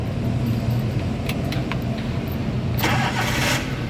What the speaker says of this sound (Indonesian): ini kita nyalakan mobil